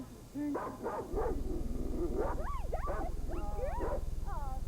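A dog on a TV show performs a trick, giving a run of yips, whines and whimpering barks that rise and fall over a steady hum, with a voice briefly heard at the start.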